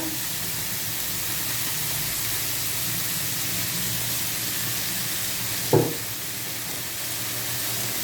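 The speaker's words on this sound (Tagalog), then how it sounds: "sunod naman natin ang ating pork giniling. Ayan. Halo-haluin" Ground pork frying in a pan makes a steady, broad sizzle, with one short clatter of stirring partway through and no voices.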